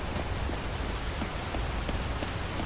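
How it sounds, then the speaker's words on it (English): Heavy rain in a modded Skyrim zombie-apocalypse game, a dense, even downpour pattering on surfaces with scattered droplet taps and no voices. "And it is raining cats and dogs."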